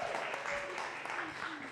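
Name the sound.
audience applause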